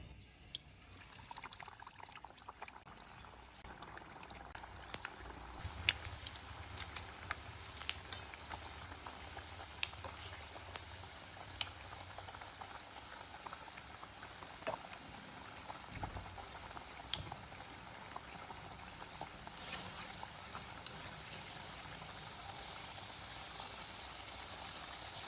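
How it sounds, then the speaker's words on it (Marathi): Pieces of jaggery kapnya dough fry in hot oil over a medium-to-low flame, giving a steady, bubbling sizzle with scattered crackles throughout and no voices. "आता आपण या कापण्या तळून घेऊया."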